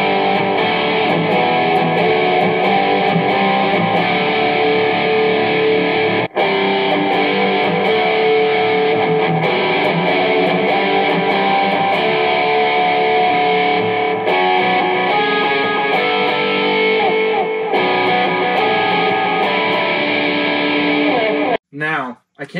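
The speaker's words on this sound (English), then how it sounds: "Let's try it with some distortion." Electric guitar with distortion played through a Golden Age Projects Pre-73 preamp, TONEX and a guitar cab, loud sustained chords and riffs that run almost continuously before cutting off near the end.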